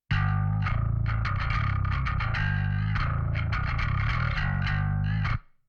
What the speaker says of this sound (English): I also sent the bass to the small reverb, so this is just to give the bass this touch of depth